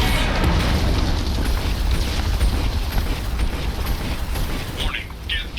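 Geth cannon blasts in the video game Mass Effect 2 make a loud, sustained wall of booming, rumbling noise that barely lets up for several seconds.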